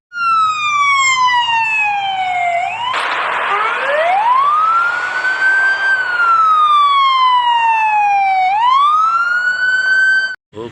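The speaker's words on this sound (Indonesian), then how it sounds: "Wadidaw, ada mobil ambulan." An ambulance siren wails loudly and close, its tone sweeping up and down in long cycles, with a burst of noisy clatter partway through and a brief cutoff at the end.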